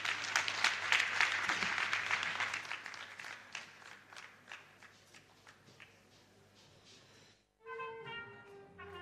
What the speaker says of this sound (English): shall we give another round of applause to all the graduating students?